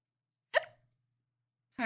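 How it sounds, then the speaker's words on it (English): A single sharp hiccup from a man, then a short silence before his voice returns. "Sorry, I got hiccups."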